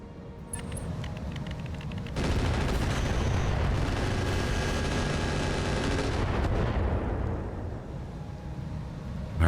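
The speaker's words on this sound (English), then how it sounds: "We got more missiles coming in." Incoming missiles slam down in the BattleTech RogueTech mech combat game, a dense rolling barrage of heavy booming explosions that bursts in abruptly and rumbles continuously for several seconds before tapering off.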